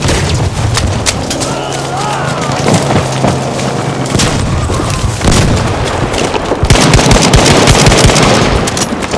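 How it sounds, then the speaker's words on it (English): Loud grenade blasts and booming explosions in Battlefield 5 Grand Operations, layered with scattered gunfire across a dense, roaring battlefield soundscape, with brief shouted voices. "Have this grenade!"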